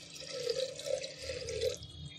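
Water poured into a cooking pot of jeera rice, a steady splashing trickle with small gurgling bursts, close and moderately loud.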